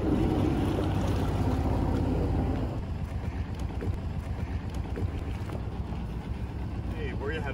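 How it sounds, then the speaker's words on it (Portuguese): Small water taxi boat running on the water in Vancouver, a steady motor rumble mixed with heavy wind buffeting the microphone, louder at first and then settling into a lower, even drone. "Eu vou pegar um táxi aquático até Granville Island."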